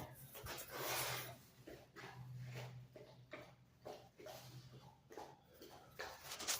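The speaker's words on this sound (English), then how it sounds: "You can't get a workout in with this dog." A dog breathes and snuffles up close in a home gym, with short irregular bursts of panting and sniffing over a low steady hum.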